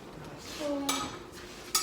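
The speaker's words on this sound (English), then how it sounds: "I'm gonna get a spoon and a fork." Metal spoon and fork picked up from a kitchen drawer, giving two short bright clinks of cutlery about a second apart, close and fairly quiet, with faint kitchen rustle before them.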